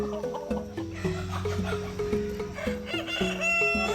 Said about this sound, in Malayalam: ഇത് ഇറച്ചിക്ക് അനുയോജ്യമായ കോഴികളാണ്